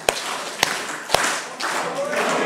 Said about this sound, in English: I request everyone to clap with me 3 times